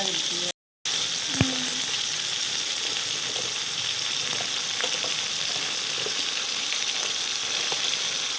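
Brinjal and bottle gourd pieces fry in a pan for curry, a loud, constant close sizzle with occasional stirring scrapes and one brief dropout near the start.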